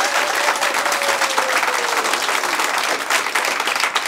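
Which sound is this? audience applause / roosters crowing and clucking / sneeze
audience applause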